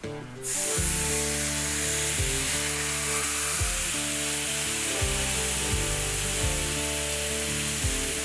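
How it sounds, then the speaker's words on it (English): A salted hunk of beef dropped into a very hot carbon steel pan, bursting into a loud, steady sizzle and spitting hiss that continues throughout, with a range hood humming beneath. "Get your pan super hot, turn your hood all the way up, and drop in your salted hunk of meat."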